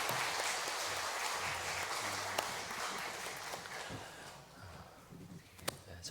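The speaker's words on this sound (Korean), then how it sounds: "우리 하나님께 영광의 박수 올려드립니다." A church congregation claps in a dense, sustained burst of applause that gradually thins and fades near the end, with a few sharper knocks.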